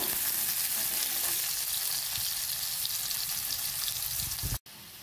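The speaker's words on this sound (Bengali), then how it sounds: "লঙ্কা পেঁয়াজ ভেজে নেব।" Chopped green chillies and onions crackle and sizzle steadily in hot oil in a pan, a close, even hiss that runs without pause until it cuts off near the end, with no talking.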